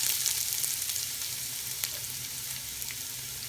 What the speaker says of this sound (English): So we'll start off with a pot with about a quarter cup of vegetable oil on a medium heat. And to our pot we'll add one finely diced onion